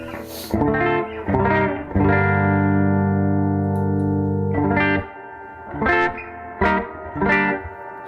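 Electric guitar chords ring out through a 1968 Fender Princeton Reverb amplifier with a lush, splashy spring reverb tail, a long sustained chord followed by several short strummed hits.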